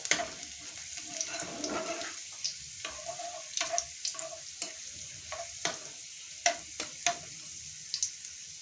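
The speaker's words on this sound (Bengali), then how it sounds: "রসুন কুচি আর আদা কুচি ভালো করে নেড়ে চেড়ে নিতে হবে" Chopped garlic and ginger stir-fried in oil with bay leaf, a soft sizzle punctuated by frequent sharp spatula scrapes and taps on the pan, close and rhythmic.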